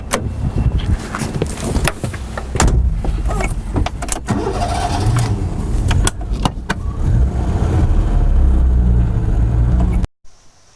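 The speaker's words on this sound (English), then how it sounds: "this is my car of choice," A 1970s Vauxhall Chevette, a badge-engineered Opel Kadett, starts and runs at close range, its engine rumbling and clattering steadily for about ten seconds before cutting off abruptly.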